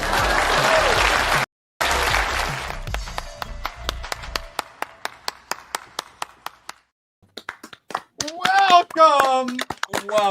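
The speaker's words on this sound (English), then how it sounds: "Please clap." A short burst of dense clapping and cheering from an audience opens, then stops abruptly and gives way to sparse taps and a brief voice.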